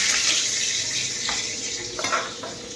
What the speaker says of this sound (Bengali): দেখো, ডালে ফোড়ন দিচ্ছি এখন